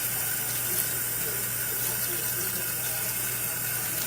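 Tap water runs steadily and close by into a drained tub or sink while a guinea pig is rinsed at bathtime, a constant splashing hiss with no breaks.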